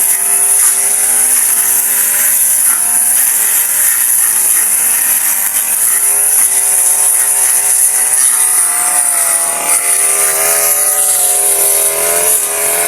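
Engine-driven grass cutter running steadily outdoors in rainy conditions, a loud, continuous buzzing drone with slight pitch wavering throughout, close by and without talk.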